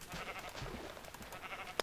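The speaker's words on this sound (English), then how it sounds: "Oh, there's a third. It's a pink sheep." A pink sheep bleating in a Minecraft-style video game, one short faint bleat heard on its own, ending in a brief click.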